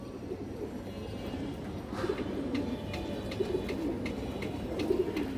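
Pigeons cooing in a loft, faint low coos repeating steadily under light background noise, with a few soft ticks scattered through.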